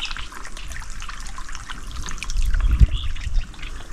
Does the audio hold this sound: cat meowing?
no